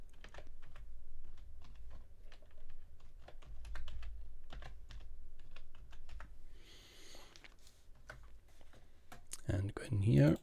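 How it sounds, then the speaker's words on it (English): Quick, light keystrokes on a computer keyboard while a folder name is entered, a soft scattered run of clicks with a voice talking faintly in the background. "I'll just create a new folder here, and we'll call it Thor with Grant."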